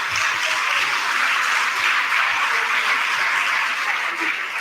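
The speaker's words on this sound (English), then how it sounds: "I want you to give them a round of applause" Guest speakers receive a round of applause from an audience at a welcome event: dense, sustained clapping at an even loudness from start to finish, with no voices over it.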